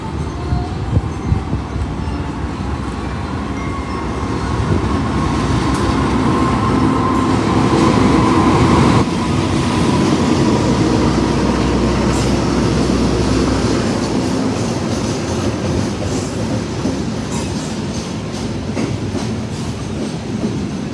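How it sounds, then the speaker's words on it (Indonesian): Fajar Utama Yogyakarta passenger train, running from Jakarta Pasar Senen to Yogyakarta, rolls into the station with a loud, steady rumble and clickety-clack of wagons passing close by, continuing throughout. "Yang baru masuk ini adalah kereta api Fajar Utama Yogyakarta dari stasiun Jakarta Pasar Senen tujuan stasiun Yogyakarta"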